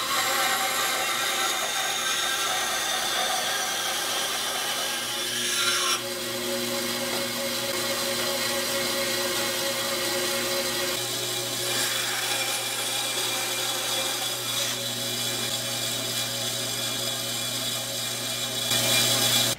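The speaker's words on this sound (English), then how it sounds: "I've just rigged something up to make the miter cuts, and I'll be doing that on the bandsaw." A bandsaw cutting wood for miter cuts in a small woodworking project, with a loud, continuous whining rasp throughout and slight changes in tone as the cut moves.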